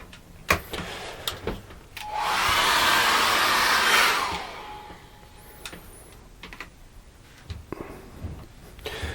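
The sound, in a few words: hair dryer drying acrylic paint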